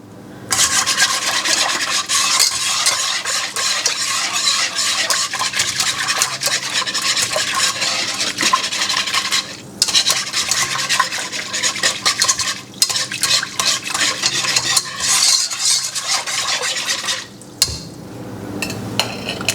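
Continuous scraping and stirring of peppers in a pot on high heat for pressure canning, a steady gritty rasp with brief pauses, close and fairly loud, no voices.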